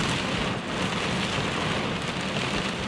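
Heavy rain pours down at a beach, a dense, steady hiss of drops and spatter that fills the whole clip at a constant loud level, with no voices.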